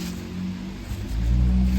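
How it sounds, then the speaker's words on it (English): Honda Magna 750 (VF750C) motorcycle with factory mufflers and baffles removed, engine revving up loudly from a steady idle, the exhaust note rising and swelling in the second half, close to the mic with no talking. "I figured you want to hear the exhaust differences"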